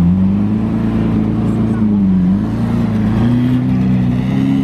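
A Lamborghini Aventador SV Roadster on ADV1 wheels, fitted with a Capristo exhaust, rumbles loudly with a deep, steady engine note and slight revving in a busy street setting at the Monaco Grand Prix, with voices talking underneath.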